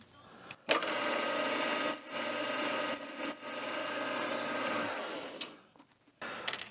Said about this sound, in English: Now, we'll just deburr this side since we're here.